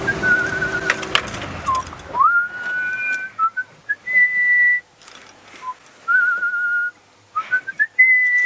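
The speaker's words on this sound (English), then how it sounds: "your whistling's probably better than mine" A person whistles a melodic tune during a sunrise safari drive, in clear sustained notes with short pauses between phrases, close and fairly loud, after some brief background noise at the start.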